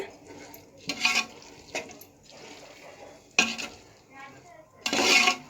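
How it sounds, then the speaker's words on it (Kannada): Vegetables with salt being stirred in a pan for Karnataka-style vegetable bath, heard as a few distinct scraping bursts of the utensil against the pan over a faint background sizzle, fairly close. "ಈಗ ಇದನ್ನು ಮಿಕ್ಸ್ ಮಾಡೋಣ."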